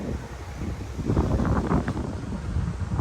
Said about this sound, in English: Nice and windy, so keeps the dust moving.